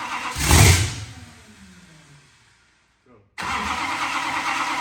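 A blown 1941 Willys engine being worked on to start: a loud burst of engine noise that fades away, a brief silence, then a steady running roar resumes.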